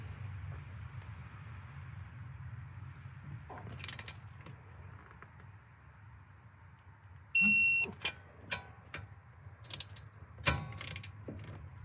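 Torque wrench tightening Subaru Forester rear wheel hub bolts to 65 Newton meters, soft ratcheting clicks over a low hum, then a sharp brief click-beep as the set torque is reached, followed by scattered clanks.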